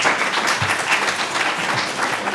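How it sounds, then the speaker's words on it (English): An audience at a Faith in Action Palm Beach County community services event gives a steady round of applause, dense clapping held at an even level throughout. "Let's give Janet another big round of applause."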